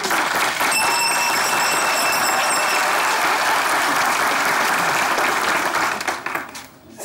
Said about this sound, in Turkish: Zile gönderiyoruz onlara alkışlarla.